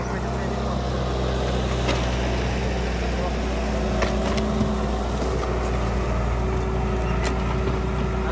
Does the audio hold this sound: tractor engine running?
yes